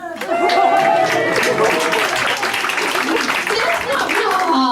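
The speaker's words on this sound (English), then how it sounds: "Come on, give Netflix a cheer." An audience at an English comedy night cheers and applauds loudly and steadily, with whoops and laughter mixed into the sustained clapping throughout.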